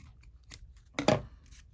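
Scissors snip through craft strings in one brief, close, crisp cut, with a faint softer handling sound just before and quiet room tone around it.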